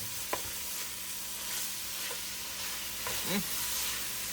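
Meat sauce stirred in an oiled pan for baked spaghetti, with a low sizzle throughout and a few soft spoon scrapes and knocks against the pan, heard alone and close.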